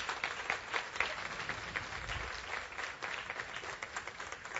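Applause from a church congregation: steady, dense clapping that fills the whole clip at moderate loudness, with no talking over it.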